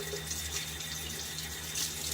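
A bathroom tap runs steadily into a sink for rinsing after a wet shave, a constant close hiss of flowing water with a faint low hum beneath.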